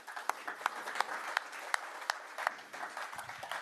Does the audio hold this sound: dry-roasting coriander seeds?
no